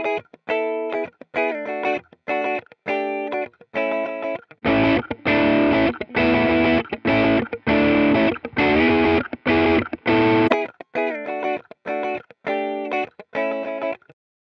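Electric guitar played through a TH-U amp simulator with the input level set too low: rhythmic chopped clean chords at the start and end sit quieter than the loud, dense distorted chords in the middle.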